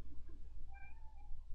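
A cat gives a single short, fairly soft meow rising over a steady low hum, heard close by, with no one talking.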